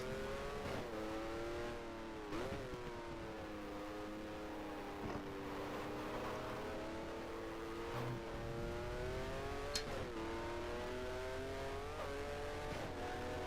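A Formula One race car from a 1973-season career in the F1 Challenge video game wails at high revs on the final lap of the Dutch Grand Prix. The engine pitch rises and falls through gear changes in a loud, continuous stream.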